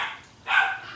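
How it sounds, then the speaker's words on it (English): Several dogs and puppies bark from somewhere below, two short bursts of yapping with a brief lull between them, moderately loud and without talk. "Everybody's barking down there"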